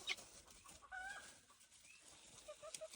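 Chickens cluck and squawk in short agitated bursts, with a few sharp calls over a noisy outdoor background.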